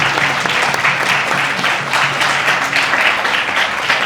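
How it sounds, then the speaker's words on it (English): An audience at a sports and STEM panel in a science museum gives a round of applause, with loud, continuous clapping from many hands for about four seconds. "let's give a great round of applause for celebrating our special guest."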